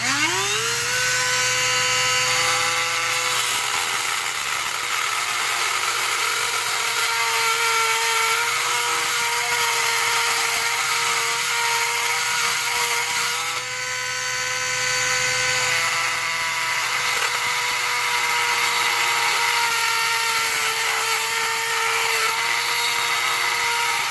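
Power drill bit cutting a chamber into a challenge lock, a loud continuous high whine that spins up at the start and holds steady, dipping briefly midway, close up with no talking.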